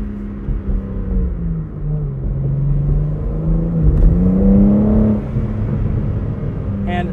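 A 2022 BMW M4 Competition xDrive convertible with its eight-speed automatic pulls hard, the engine note rising and falling through revs from the cabin with wind noise, the roar swelling near the end before easing.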